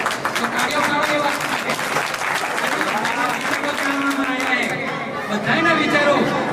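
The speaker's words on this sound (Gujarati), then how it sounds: "તો તાળીઓ પાડો" A crowd at a community gathering of a weaver society's panchayat applauds steadily and densely throughout, with a murmur of chatter mixed in and the clapping swelling slightly near the end.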